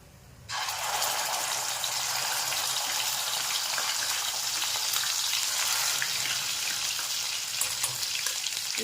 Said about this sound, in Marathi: त्यामध्ये आपण हे जे घेतलेलं वाटण आहे तयार करून ते टाकून घेऊ